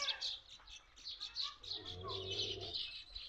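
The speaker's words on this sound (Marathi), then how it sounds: "असा एकदम चिव चिव चिव चिव चिव चिव चिव भारी आवाज आहे" Birds chirp outdoors around a farmhouse in the fields, giving a busy run of quick high tweets and calls at moderate distance, with a voice talking underneath.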